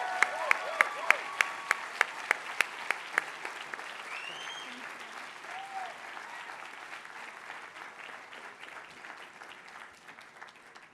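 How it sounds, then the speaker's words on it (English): Audience applause at the Harvard Medical School class day ceremony, beginning with several sharp, evenly spaced nearby claps before settling into a broad sustained ovation that slowly fades, with some voices mixed in. "Let's give them a huge round of applause."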